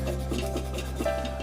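Sandpaper rubbing over a chameleon burl wood shaving brush handle coated in CA, a steady close rasping scrape in short repeated strokes over a constant low hum.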